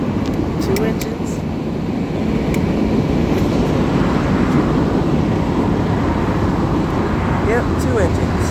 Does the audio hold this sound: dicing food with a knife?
no